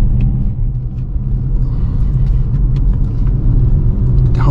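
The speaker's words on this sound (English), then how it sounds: "this car still has a little bit of its old exhaust now" Steady low exhaust rumble from a Dodge Charger R/T on a new exhaust, cruising in a continuous drone with road noise and no clear revs, fairly loud and unbroken throughout.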